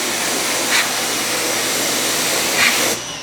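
Water sprays to rinse a wheel-cleaning brush while a badly soiled car wheel is cleaned, a loud, steady hissing rush alone with two brief swells.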